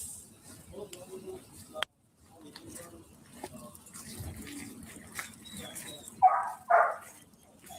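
Dogs bark and whimper in short, high-pitched yelps near the end, after quieter rustling and faint background sounds.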